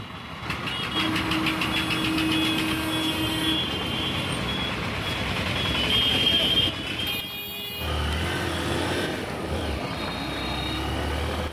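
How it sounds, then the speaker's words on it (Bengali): A bus bound from Kolkata Dharmatala to Kakdwip passes through the Kulpi three-road crossroads, its engine a loud, steady rumble with a broad roar that drops off partway through, leaving lower traffic noise. "এই যে বাসটা, এটা হচ্ছে কলকাতা ধর্মতলা থেকে আসছে, এটা এখন যাবে তোমার কাকদ্বীপে"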